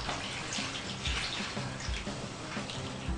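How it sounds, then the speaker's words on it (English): Cooled vinegar and sugar liquid is slowly poured over pickled salmon, a steady close splashing trickle with small gurgling surges, heard alone without talk. "my vinegar and sugar liquid cooled off. Just slowly pour it all over the whole thing."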